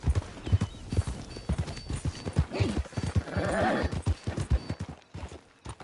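Steady clip-clopping horse hooves trot along in Red Dead Redemption 2, under layered background chatter and game ambience, with a brief whinny-like swell midway.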